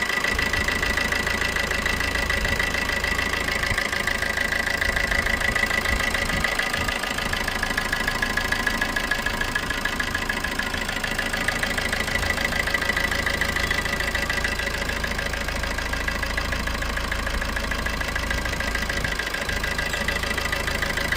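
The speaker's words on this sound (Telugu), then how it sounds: "ఒకసారి మీకు ఇంజిన్ కూడా స్టార్ట్ చేసి చూపిస్తాను, చూద్దామండి." A 2015 Maruti Suzuki Ertiga VDI diesel car engine idling, a steady, even rumble with a faint diesel knock, close and continuous for the whole stretch without speech.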